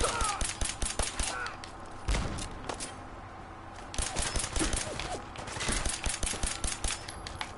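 Rapid gunfire from a weapon fired from the hip in Fallout 4, with dense bursts of sharp shots rattling in quick succession and a brief lull in the middle.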